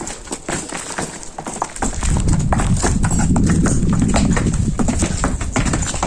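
Donkeys' hooves clip-clop in a quick, uneven patter along a rocky trail at Petra, close and loud, joined by a growing low rumble of movement and wind.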